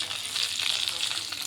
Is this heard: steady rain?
no